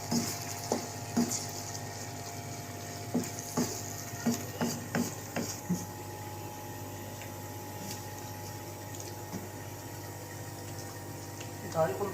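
Dal is tipped into hot masala in a pan and fries, giving a quiet, close sizzle broken by scattered clinks and knocks of a spoon or lid in the first half.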